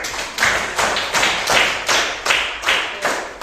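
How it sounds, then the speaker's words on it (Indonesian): Applause from a primary school class, a steady run of many hands clapping in rough pulsing waves, fairly close and filling the room with no talk over it. "Berikan tepuk tangan dulu"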